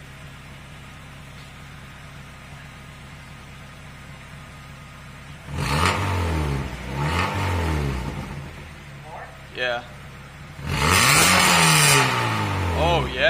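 Car engine fitted with a Racing Beat muffler and quad exhaust tips, idling low, then revving hard in several rising and falling bursts, loud and close, with a person briefly speaking between revs.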